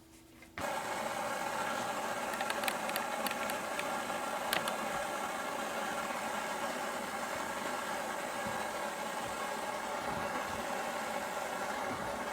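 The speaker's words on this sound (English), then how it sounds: "Just a little bit of sanding." A steady, unbroken whirring drone of a spinning lathe as a sequoia wood vase is sanded, constant in loudness throughout with no voices.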